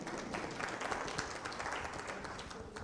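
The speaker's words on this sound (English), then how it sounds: "I'm not hearing hands applauding TradeMarks." Applause from an audience at a trade conference on African free trade, a steady dense patter of clapping sustained throughout at moderate, fairly distant level.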